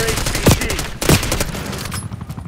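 Call of Duty Black Ops 6 gunfire: loud, dense shots under a steady rumbling din, with two heavier blasts standing out in quick succession before the firing thins toward the end.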